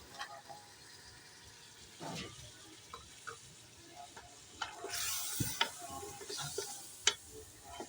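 Ground tomatoes and green chillies fry with ginger and garlic in a pan: a quiet sizzle broken by scattered clicks and scrapes of stirring, growing busier toward the end.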